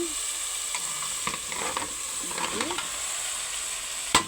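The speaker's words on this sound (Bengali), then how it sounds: "আমার তরকারিটা মশলাটা প্রায় কষানো হয়ে গেছে" Spice paste sizzles in a pan during cooking of an egg curry, with a soft steady fry broken by scraping stir strokes and a sharp clack near the end; no voices.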